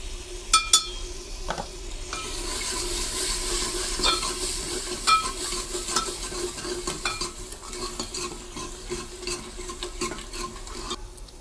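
Masala spices for a dhaba-style kala chana curry sizzle steadily in a pan, with a spoon stirring and occasional clinks against the metal, and no one talking.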